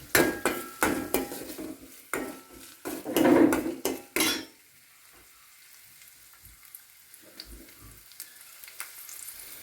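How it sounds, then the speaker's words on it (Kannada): Onion hits hot coconut oil in a pan with a loud burst of sizzling and sharp metallic clatters from a spoon against the pan, then settles into quieter, fainter frying. "ಬಾಣಲೆಗೆ ಒಂದು ಸ್ವಲ್ಪ ಕೋಕೋನಟ್ ಆಯಿಲ್ ಹಾಕಿ ಅದಕ್ಕೆ ಆನಿಯನ್ ಹಾಕೋಣ"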